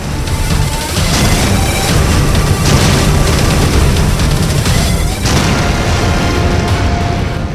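Strikes hit Hezbollah positions on the Lebanon border, producing heavy, repeated booms and a dense rolling rumble that stay loud and continuous, with no voices.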